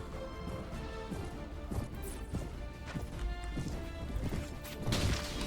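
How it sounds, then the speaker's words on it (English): Combat impacts as a horse is struck in Mount and Blade Warband, with hooves clopping, heavy thwacks and crashing hits amid busy battle noise, loudest near the end. "Well, we managed to do some damage to that chap's horse."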